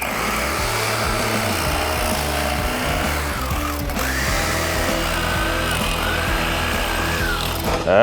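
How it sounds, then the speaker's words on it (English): A cheap, low-rated Lowe's drill bores into wood with a worn 1-inch paddle bit, its motor grinding loud and steady at close range for eight seconds, straining unevenly as the bit chews through, with no speech. "I don't know if it's the paddle or the drill."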